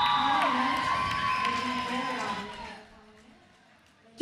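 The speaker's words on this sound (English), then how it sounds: "Did you hear that crowd? Even Black Diaspora was cheering for her." Crowd at a roller derby bout cheers and whoops loudly for about three seconds, then the noise quickly fades to quiet.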